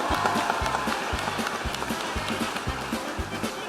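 Audience clapping and cheering at a political comedy taping, a steady dense wash of applause with no gaps across the whole stretch.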